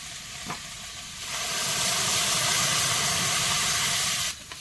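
Boiled peas tipped into a pan of fried potatoes, a loud hissing sizzle that surges after a brief clatter and holds steady for a few seconds before dropping away, with no talk.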